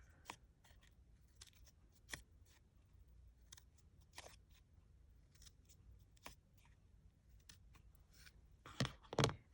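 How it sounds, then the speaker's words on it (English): Scissors snip into the center of stacked paper craft pieces for peppermint candy and lollipop decorations, a series of quiet, sharp cuts spaced irregularly, close up and alone, ending with a louder rustle of handled paper. "just use your scissors and cut into the center"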